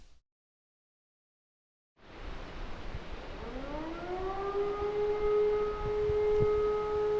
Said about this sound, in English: Why is there an air raid siren?